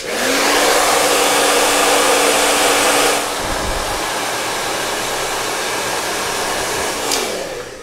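A hair dryer blows loudly and steadily while drying hair, then cuts to a lower setting and keeps running more quietly until it stops.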